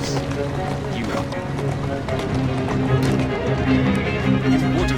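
Horse hooves clip-clop steadily in the video game Assassin's Creed Syndicate, moderately close, over a busy background of ambient game sound and tonal music-like layers.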